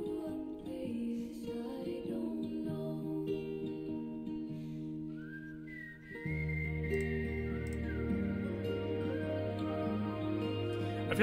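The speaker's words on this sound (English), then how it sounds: "I feel like whistling is OP in a song." A cheerful whistled melody from the Sayonara Wild Hearts video game soundtrack, layered over sustained synth chords and a bass line. It plays steadily throughout at moderate level, and the whistle rises in clearer phrases in the second half.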